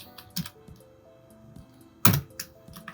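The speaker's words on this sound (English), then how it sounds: "let me type in our test" Keystrokes on a computer keyboard while typing text in Photoshop for a digital marketing poster, a few scattered taps and then a sharper cluster of clicks, close and fairly quiet with no talk.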